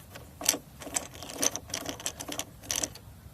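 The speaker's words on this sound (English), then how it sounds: "and then undo these two screws." Screws being undone on the door lock cover of a 1999 Volvo V70, a series of short, light metallic clicks and ratchety ticks in quick irregular bursts, close up and fairly quiet.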